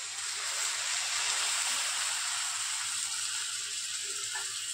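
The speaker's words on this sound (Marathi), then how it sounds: "एक ग्लास पाणी घातलंय मी," A glass of water poured into a hot pan of sautéed cluster bean and peanut paste gives a steady rushing hiss that eases off slightly toward the end, with no voices.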